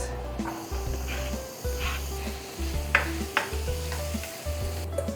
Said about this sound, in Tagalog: Time to gisa. Lagay yung bawang. Sibuyas.